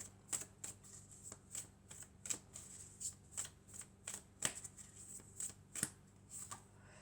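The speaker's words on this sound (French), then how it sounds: "Alors, on va prendre encore 2 cartes." Tarot cards are shuffled and drawn in a quiet room: a steady series of crisp, close card flicks and slaps at a fairly regular rhythm, with no talking.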